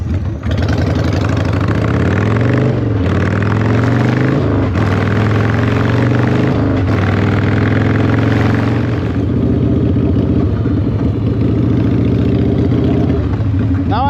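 A 1996 Harley-Davidson FLSTF Fat Boy with an Evo engine rumbles steadily while riding, a loud, close, continuous low throb with shifting revs and brief breaks between gears.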